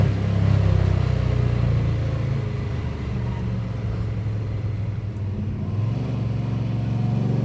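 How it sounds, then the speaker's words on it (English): A 1965 Ford Mustang Shelby GT350 tribute cruises on back roads, its engine a steady, loud low rumble heard from inside the car, holding fairly constant with no talking. "now we're just cruising the back roads a little bit on our way to the FFR road"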